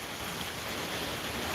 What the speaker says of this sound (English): And here comes another gust.